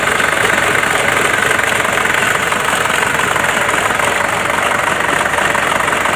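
Isuzu Crosswind engine idling with a rattling noise from underneath, heard up close as a steady, dense mechanical clatter with constant vibration and no pauses.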